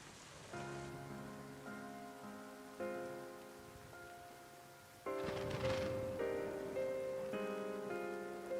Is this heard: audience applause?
no